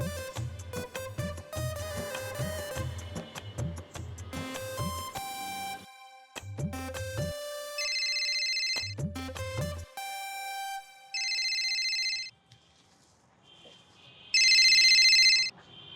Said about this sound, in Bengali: ফোন করছে আমাকে